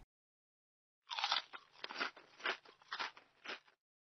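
A child crunching on baked chestnut cakes: several crisp, close bites and chews in a loose rhythm over about three seconds, with silence before and after.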